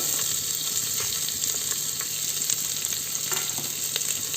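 Chopped onion and whole spices fry in oil and ghee for a prawn biryani, a close, steady crackling sizzle with light stirring scrapes and no talking.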